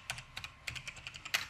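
Quick typing on a computer keyboard, about a dozen sharp, close key clicks in an uneven rhythm, heard alone without talk.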